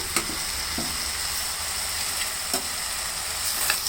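Ginger garlic paste frying in a pan for a cabbage dish, a steady close hiss of hot oil with occasional spoon scrapes and clicks, no talking over it.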